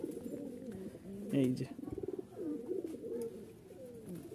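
Pakistani teddy pigeons coo softly and repeatedly at a pigeon seller's loft in Rajshahi, their low rolling calls close by while someone speaks briefly over them.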